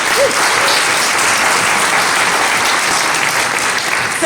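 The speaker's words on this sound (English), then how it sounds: "give yourselves a huge round of applause" A dense, steady round of applause from an audience at a Democratic candidates forum in Virginia: loud, close clapping that fills the room evenly from start to finish with no voices standing out.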